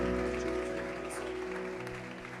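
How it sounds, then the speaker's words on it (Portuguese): Church congregation at a Nazareno Betel service applauding Pastor Luciano, a soft, steady wash of clapping over a sustained organ or keyboard drone, fairly quiet and continuous throughout. "Dá uma salva de palmas pela vida do pastor Luciano."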